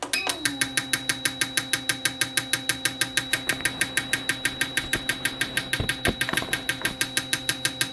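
An AUTOOL CT 160 injector cleaner and tester runs its idling test, firing a steady, rapid train of sharp ticking pulses with a faint constant whine underneath, close and even throughout.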